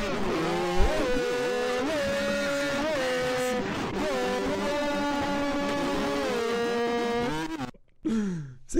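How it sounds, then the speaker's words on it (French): A motorcycle engine revs inside the Counter-Strike: Global Offensive game, its droning pitch climbing and dipping through repeated throttle blips, loud and close, before cutting out abruptly near the end. "C'est quoi comme moto ça"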